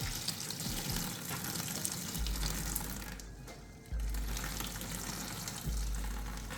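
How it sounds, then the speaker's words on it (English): Water pours and splashes out of a pot of boiled fries into a sink, a steady rushing drain with low gurgling surges, fairly faint and without talk. "now we're just draining the water from the pot"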